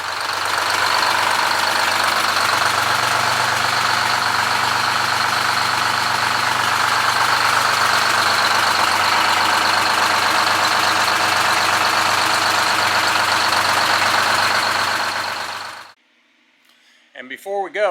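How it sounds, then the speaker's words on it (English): A GMC 6V-71 diesel engine in a 1961 GMC truck idles with a loud, steady, even rumble for about sixteen seconds, then cuts off abruptly, leaving a few faint sounds. "Of course, that 6V-71 motor runs like a top."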